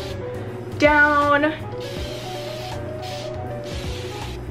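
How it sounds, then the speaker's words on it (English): A brief spoken word, then a few short hissing spritzes from a spray bottle misting water onto curly hair, close by and moderately loud. "I'm gonna take my new spray bottle, kind of just spray my hair"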